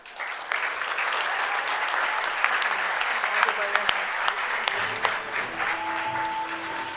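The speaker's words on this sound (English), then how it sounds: "Let's all give ourselves a big round of applause." Graduates at a school graduation ceremony clap together in a steady, dense round of applause that holds strongly throughout, with a few voices and tonal sounds mixed in underneath.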